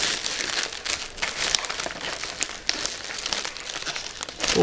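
Transparent cellophane gift wrap is gathered and bunched by hand, crinkling and rustling loudly and continuously at close range.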